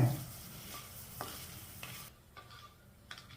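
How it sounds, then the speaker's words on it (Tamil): Dry spices with fenugreek roast in a pan for tiffin sambar made without lentils, giving a faint hiss with a few soft scrapes of stirring, close and quiet, with no talk. "எல்லாமே ஒன்றா வறுக்கிறது தான்."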